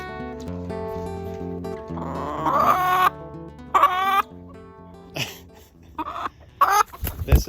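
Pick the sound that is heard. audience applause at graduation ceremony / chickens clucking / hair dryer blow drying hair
chickens clucking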